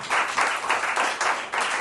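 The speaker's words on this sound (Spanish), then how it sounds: "un aplauso por favor" An audience at an anniversary gathering in Casa Tores claps briefly, a steady moderately close patter of many hands with no voices.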